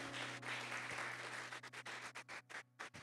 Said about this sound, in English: Let's give God a hand clap of praise again.